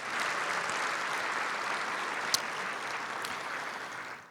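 An audience at an education event applauds steadily, a dense even patter of many hands clapping at moderate distance with no voices over it.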